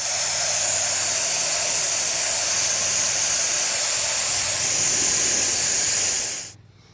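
Steady aerosol spray of fast orange paint onto an RC buggy body, a continuous loud close hiss running almost seven seconds before stopping abruptly.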